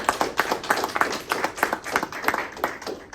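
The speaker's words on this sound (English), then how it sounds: "If we could have a round of applause for the finalists" Small audience clapping for the finalists at a student Survivor-style tribal council, a brisk, uneven patter of hands at close range with no talking over it.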